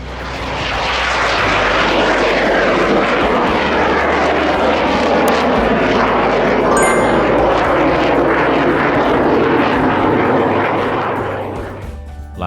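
A Yak-130 jet aircraft's engine roars loud and steady for about twelve seconds, a broad continuous rush that fades slightly at the very end.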